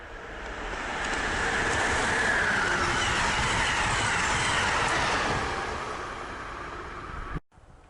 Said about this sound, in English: On the other side of the main line, 662 comes into view with a Keystone train.